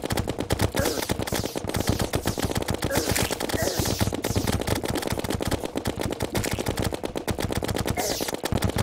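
Rapid video game gunfire from curse bullets rattles without pause, a dense stream of sharp close shots that stays loud and even throughout.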